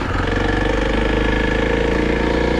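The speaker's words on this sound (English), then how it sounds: "we got a little downshift there while standing." A Kawasaki KLX 300 dual sport motorcycle engine thrums steadily and close, with a pulsing mid-range note that shifts slightly as the rider downshifts while standing on the pegs.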